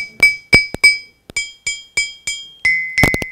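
Two-toned stone lithophone bars struck repeatedly with a mallet ring out in bright, clinking tones, alternating between two pitches in a steady rhythm, ending in a quick flurry of hits.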